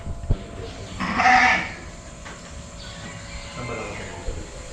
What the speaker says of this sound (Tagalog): Ito naman yung mga tupa.